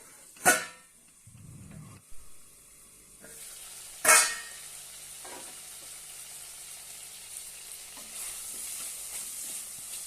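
Potatoes for an okra and potato sabji are stir-fried in a pan with garam masala, giving a steady soft sizzle with two loud spatula scrapes against the pan and a few lighter clinks.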